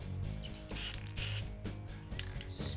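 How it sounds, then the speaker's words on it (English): Black spray paint hisses from an aerosol can in bursts onto the holes of a mini bike engine plate, several short close sprays separated by brief pauses, with small clicks and handling noises. "Take some black spray paint."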